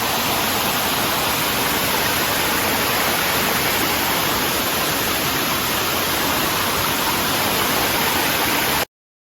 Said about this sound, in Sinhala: මේ මෙතන පොඩි දියල්ල උඩ ලොකු දියල්ලක් තියෙනවා